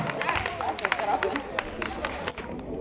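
Boys at a diploma ceremony clap together in a brisk, uneven patter of many hands lasting a few seconds, with crowd murmur and voices mixed in.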